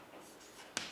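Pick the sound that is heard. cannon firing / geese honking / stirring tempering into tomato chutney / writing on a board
writing on a board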